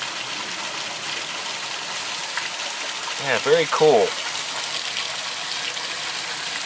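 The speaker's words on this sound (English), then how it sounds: "You can probably hear the fast-flowing river nearby as well." Fast-flowing river near a riverbank habitat for endangered turtles, a steady broadband rush of water running the whole length, with someone briefly speaking over it midway.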